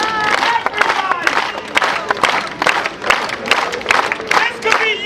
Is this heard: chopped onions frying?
no